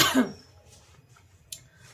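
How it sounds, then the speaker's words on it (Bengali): A woman gives one sharp, close cough at the start, followed by faint throat noises and a brief click in a quiet room. "যেই কথা বলা শুরু করি তখনই কাশি শুরু হয়ে যায়"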